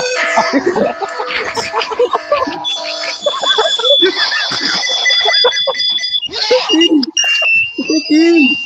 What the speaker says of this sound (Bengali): অ্যালার্ম ছিল।